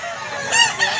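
A white rooster lets out a short, bright crow, loud and close, rising in the middle of a brief burst.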